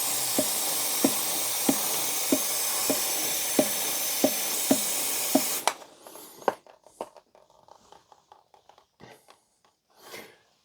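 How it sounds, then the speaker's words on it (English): Chain cleaner sprays onto a motorcycle chain as a steady, close hiss lasting several seconds, with regular soft clicks, then stops, leaving scattered faint handling noises. "And then I just get the chain cleaner again,"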